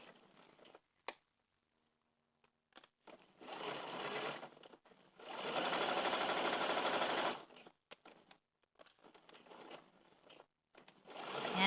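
A sewing machine stitches a denim seam on baby overalls in several short bursts and one longer steady run, separated by pauses. The motor is close, loud and clear, with no talking.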